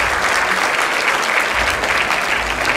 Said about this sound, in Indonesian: boleh tepuk tangan buat rekan guru